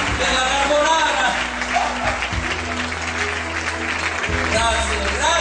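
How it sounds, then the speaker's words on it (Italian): An audience at a live comedy show in Rezzato claps and applauds steadily, with loud talking over the clapping. "Un applauso a Maria Teresa"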